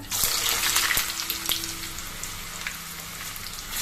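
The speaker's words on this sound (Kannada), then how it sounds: "ಸ್ವಲ್ಪ ಎಣ್ಣೆನ ನಾನು ಇವಾಗಲೇ ಬಿಸಿಗೆ ಇಟ್ಟಾಗಿತ್ತು. ಅದರಲ್ಲಿ ಈ ಬದನೆಕಾಯಿನ ಹಾಕೊಳ್ಳುವ" Eggplant pieces drop into hot oil for aloo baingan: a loud, hissing sizzle bursts up at once with a few sharp pops, then settles into a steady, slightly softer crackle.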